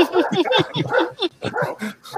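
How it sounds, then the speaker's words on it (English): Neighbour's dog barks and yips in a quick, irregular string of about eight to ten sharp calls, fairly close and alone. "That's the neighbor's dog."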